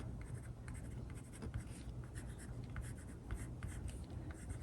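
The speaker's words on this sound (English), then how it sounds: "Definitely shows up more, because you can go with pencil over top of it" Pencil drawing over washi tape in a journal, a close, continuous scratchy scribble with short strokes, heard alone at low volume.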